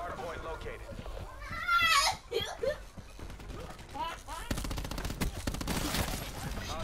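Gunfire in the Dark Souls Remastered video game, with quick bursts of shots going off under excited voices and chatter.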